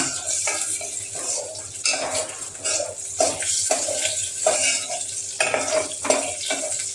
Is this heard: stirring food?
yes